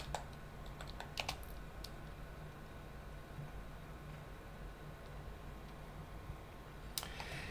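Keystrokes on a computer keyboard as terminal commands are entered on an Ubuntu system: a quick cluster of faint, close clicks near the start and another near the end, with quiet room hiss between.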